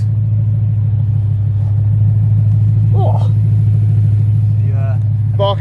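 A car engine idles with a steady low rumble throughout, joined by short bursts of people talking nearby; no strong rev surge stands out.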